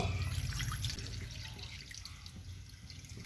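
Water trickles and splashes into a pot of washed, cut green jackfruit set for boiling, a soft close pouring with light drips throughout.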